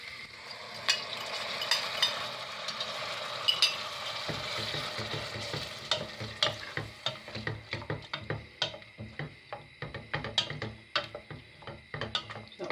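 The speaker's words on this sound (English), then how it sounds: "I'm going to put the first can of tomatoes in" Canned tomatoes going into a soft-cooked pan, settling into a steady sizzle, then stirred with a run of quick, sharp scraping clicks that grow denser and more rhythmic toward the end.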